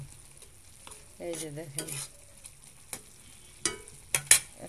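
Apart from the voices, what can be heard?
stirring boiling noodles in a pot after lifting the lid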